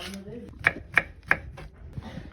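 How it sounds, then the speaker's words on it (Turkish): Green peppers being chopped on a board for a clay-pot stew from Karaman, Turkey: three crisp, evenly spaced knife strikes, close and fairly loud, after a brief murmur of voice. "Yeşil biberlerimizi doğruyoruz"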